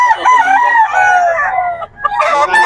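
Roosters crow at a cockfighting market in Bocaue, Bulacan, with several overlapping calls, one loud and close and others layered behind it. Clucking and murmuring voices fill the background.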